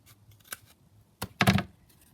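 Scissors cutting a folded magazine page to round its corners, a few short, soft snips close by with quiet gaps between them.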